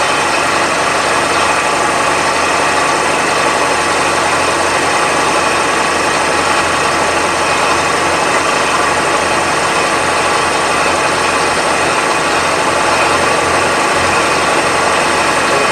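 A machine tool runs steadily at about 1500 RPM while machining blocks for Dixson tool holders, giving a loud, continuous mechanical hum and whine with no pauses and no voices.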